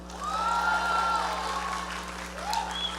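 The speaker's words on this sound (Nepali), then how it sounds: "उहाँको लागि जोरदार ताली" An audience at the Global Nepali Film Award ceremony in the USA claps in a sustained burst of applause, with a few tonal whoops or calls rising over the clapping.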